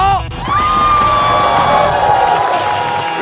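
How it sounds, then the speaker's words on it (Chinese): A studio crowd at a basketball show cheers and screams before a three-point shootout, a loud, sustained roar with shrill voices rising above it, holding steady for a few seconds. "好，开始前掌声尖叫"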